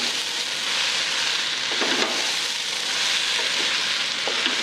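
Rice and vegetables with salt fry in a pan for spicy masale bhat, giving an even, close, continuous sizzle with a few faint stirring scrapes throughout.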